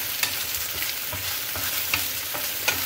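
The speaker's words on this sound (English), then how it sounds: "we're just going to add some garlic cloves that I didn't throw into the sauce earlier" Whole garlic cloves sizzling alongside sausage in a frying pan, a close, steady crackle with soft stirring scrapes and occasional sharper pops.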